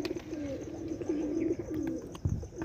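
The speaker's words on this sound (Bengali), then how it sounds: "দেখতে পাচ্ছেন কোয়ালিটি পায়রার" Murshidabadi Giribaz pigeons, including young birds, coo in low, continuous rolling phrases close by, with faint background noise and a brief knock near the end.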